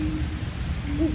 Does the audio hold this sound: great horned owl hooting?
yes